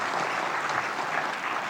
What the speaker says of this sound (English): I would like to give a round of applause to the panelists